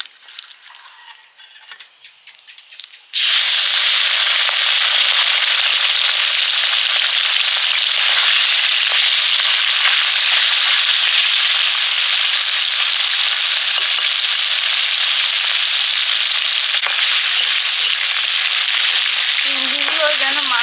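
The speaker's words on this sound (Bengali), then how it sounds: "এবারে চিংড়িটা ভেজে নিচ্ছি" Large tiger prawns seasoned with black pepper hit hot oil in a pan, bursting into a loud, steady, crackling sizzle that holds for many seconds after a quieter start.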